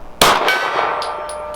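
A single bullet from a Walther PDP Compact pistol hits a steel gong target, making a loud metallic clang whose bright ring decays over about a second.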